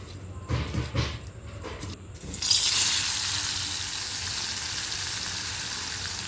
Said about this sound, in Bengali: মাছটা ভেজে নিই